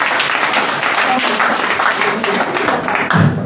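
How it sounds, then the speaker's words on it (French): A church congregation at a Saturday night vigil applauds and cheers in a steady, dense wash of clapping and voices that holds for several seconds, with a louder swell near the end. "Acclamons très fort mon Seigneur"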